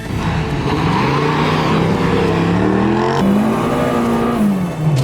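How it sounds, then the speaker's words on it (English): A boosted Citroen Saxo's engine revs hard from inside the car at a drag event, its loud, close pitch climbing through gears with a brief shift break midway. "We're in a CITROEN SAXO boosted."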